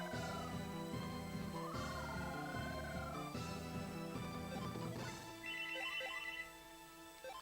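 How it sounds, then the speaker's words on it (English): A telephone rings faintly in the background during a Lufia: The Ruins of Lore speedrun, its repeated ringtone bursts sitting under game music and sound effects. "So apologies about the ringing phone in the back."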